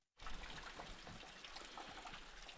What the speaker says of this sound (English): It's just water coming down from the hill up above.